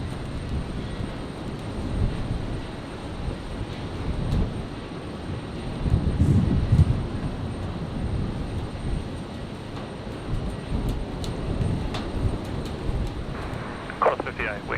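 A Qantas airliner, flight QF58, lands at Brisbane airport on a stormy night: a deep, sustained jet rumble swells and fades over several seconds, with voices talking over it.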